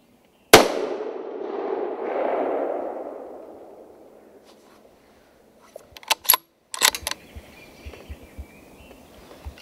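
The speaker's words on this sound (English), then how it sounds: "I soon secure another buck with a well-placed shot that falls after a short death dash" A single loud rifle shot cracks out during a roebuck hunt, followed by a long rolling echo that fades, then a few sharp scattered clicks and knocks close by.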